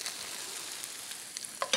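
Caramelizing onions sizzle softly in a pan with a steady, close crackle and a few sharper pops near the end, and no one speaks.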